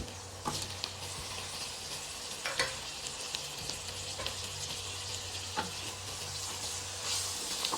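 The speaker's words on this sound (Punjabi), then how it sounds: "ਟਮਾਟਰਾਂ ਨੂੰ ਵੀ ਆਪਾਂ ਚੰਗੀ ਤਰ੍ਹਾਂ ਭੁੰਨ ਲੈਣਾ ਹੈ" Tomatoes frying in a pan for a pumpkin curry give a steady sizzle, and a few sharp scrapes from a stirring spoon stand out over it. No one speaks.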